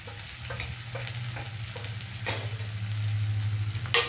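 Spices with salt, red chilli and ground coriander-cumin paste being sautéed in a pan for a yogurt bhetki fish curry, giving a continuous sizzle with scraping stirs and a steady low hum, close and moderately loud.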